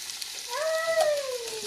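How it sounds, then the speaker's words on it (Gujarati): Onions and capsicum sauté in hot oil with cumin, chilli and garlic, giving a steady close sizzle. A high whistling tone glides through the middle of the clip, and no one speaks. "કાંદા નાખી દીધા અને કેપ્સિકમ નાખી દીધા। હવે આને થોડીક વાર સાતળવા દેવું આપણે।"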